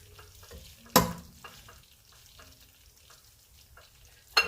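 A pot of rice with butter is stirred by hand, with soft scraping strokes repeating at an uneven rhythm, a sharp clank near the start and another near the end, and a faint sizzle underneath.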